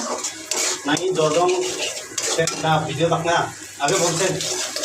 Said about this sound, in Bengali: এই যে রান্না হচ্ছে। এটা হচ্ছে কাঁঠাল দিয়ে রান্না করবো।